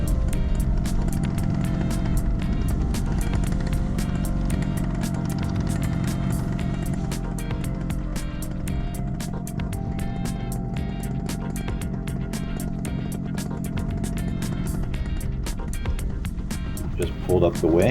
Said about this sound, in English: So I just started up the engine again. I'm just so thankful this is the Atom 80